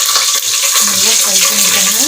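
Cinnamon, cloves and fennel seeds fry in hot oil in a pot, giving a loud, steady, close crackling sizzle with light stirring clatter throughout.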